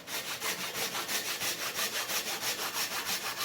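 A pull saw cuts through wood in quick, even strokes, about a dozen rasping pulls in a steady rhythm, close and clear with no talk.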